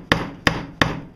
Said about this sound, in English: You have to take a screwdriver and a hammer.